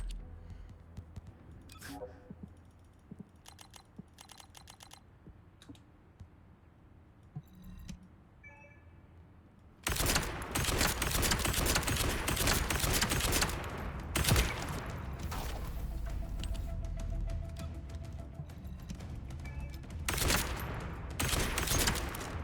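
Action and Reaction gun fire in The First Descendant video game: sparse clicks and shots early, then a long loud dense burst of gunfire and explosions, with voices talking over the action.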